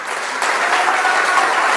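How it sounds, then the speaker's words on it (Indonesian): A church congregation at an Indonesian worship service breaks into loud, dense applause that swells slightly and holds steady, with no clear speech over it. "Berikan sorak-sorai buat Tuhan."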